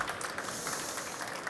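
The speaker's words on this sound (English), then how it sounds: "Here's your applause." An audience applauds after a presentation on microgrid expanded metal foil, a short burst of dense, even clapping at moderate distance.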